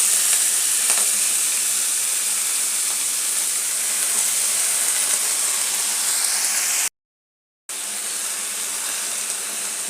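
Fenugreek leaves frying in a pan for a spicy methi rassa bhaji make a loud, continuous hissing sizzle that cuts out abruptly for under a second before resuming just as strongly.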